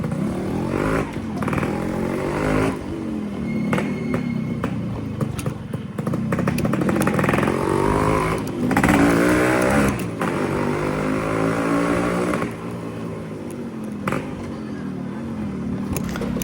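A motorcycle engine runs close by and is revved repeatedly, its rising and falling pitch swells standing out over a steady rumble, with some background chatter.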